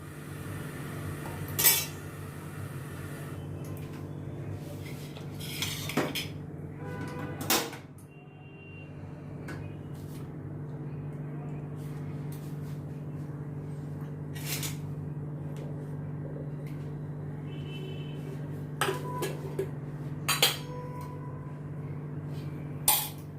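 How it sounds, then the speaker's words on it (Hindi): Metal cookware clanks as a pan is set down on a gas stove for tempering dal, with scattered clinks and knocks over a steady low hum of the burner. "तड़का लगाने में भी मैं गैस पे मैंने पैन रख दिया।"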